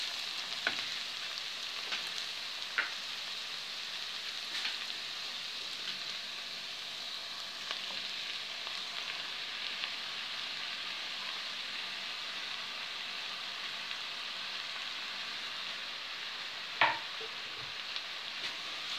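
Sliced potatoes sizzling and frying in a pan with golden onions for an onion and potato pie, a steady close crackle with a few sharper pops and clicks of stirring, no voices.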